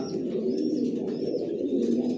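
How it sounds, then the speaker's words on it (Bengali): Original Johnson long-line racer pigeons in a home loft coo continuously and up close, a dense steady murmur of overlapping throaty calls with no talking. "আমার লফটের সব একই লাইনের কবুতর পালি। জনসনের লংয়ের অরিজিনাল রেসার।"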